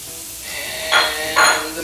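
Peppers and vegetables sizzling in a pan for a frittata, a steady close hiss of frying with two brief louder bursts of stirring.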